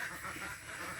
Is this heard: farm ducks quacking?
yes